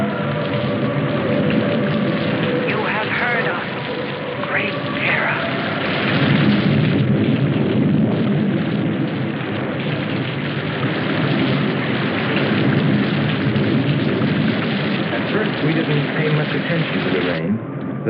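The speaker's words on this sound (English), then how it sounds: "it seemed heavier than any rain we'd ever seen" Heavy, unrelenting rain pours down in a steady dense roar, with thunder-like booms and bursts rolling through it, all loud and close with no break.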